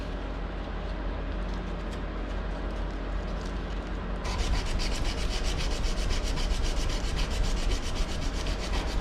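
Wood being sanded by hand with sandpaper after belt sanding: steady, continuous rubbing strokes close by, growing louder and brighter partway through, with no talking.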